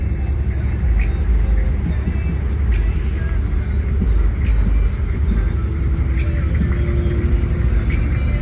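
Trucks rolling out of a parking lot after a North Texas burnout contest, a steady loud rumble of engines and traffic that never lets up, with some faint talk mixed in.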